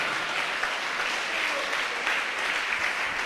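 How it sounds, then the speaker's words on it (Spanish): A church congregation claps loudly and steadily in a dense, continuous wash of applause that fills the space for the whole stretch, with no clear voice on top. "Dale ese aplauso fuerte al Señor."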